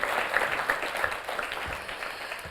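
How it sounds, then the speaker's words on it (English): An audience claps steadily for a guest stepping onto the stage at a spelling bee show, a dense, even patter of applause heard at moderate distance. "Come give him a round of applause."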